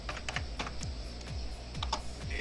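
Rapid, steady keystrokes on a computer keyboard as a format command is entered while repairing a faulty USB pendrive, close and fairly quiet, with no talking.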